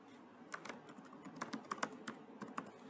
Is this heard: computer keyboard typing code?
yes